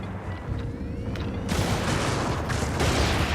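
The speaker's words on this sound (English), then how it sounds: "I had to stop shooting there briefly because I wasn't sure if I was going to hit my teammate" Video game gunfire during a survivor escort: a dense, continuous rattle of shots and explosions that grows louder halfway through and stays heavy to the end, with no talk.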